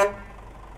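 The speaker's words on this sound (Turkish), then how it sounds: "Kornaya bak." A short, bright Scania truck horn blast in Euro Truck Simulator 2 that cuts off almost at once, followed by a low engine hum fading out.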